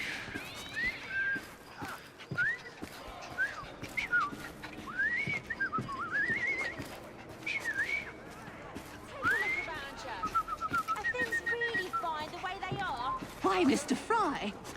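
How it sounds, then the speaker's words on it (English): A person whistles a wavering, halting tune in short, repeated phrases, with soft clattering and movement sounds underneath. "I've just learned to whistle."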